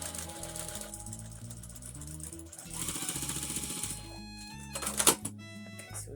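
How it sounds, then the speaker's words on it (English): A sewing machine stitches layers of fabric for a face mask, a soft rhythmic close run with handling noises. Background music plays throughout. "4 pieces of fabric I'm sewing together"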